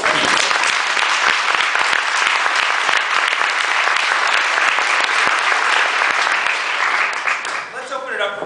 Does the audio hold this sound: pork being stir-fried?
no